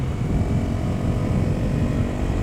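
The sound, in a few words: Honda CRF250L motorcycle engine while riding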